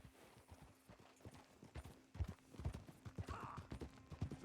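Horse hooves clip-clop in a Wild West video game, an irregular run of hollow thuds growing louder and closer over faint ambient background.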